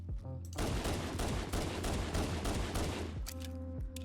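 Magnum gunfire in Fallout 4, loud rapid repeated shots forming a dense continuous barrage for about three seconds, with quieter sounds before and after.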